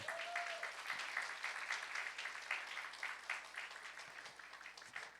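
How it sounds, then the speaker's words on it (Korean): A church youth worship congregation claps together in sustained, even applause that fills the room and slowly tapers off, with no voices over it. "우리 박수로 한번 좀 격려해 주시죠."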